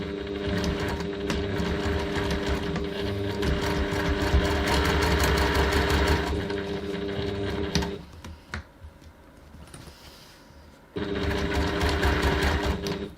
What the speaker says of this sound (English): So now we're going to stitch our flap.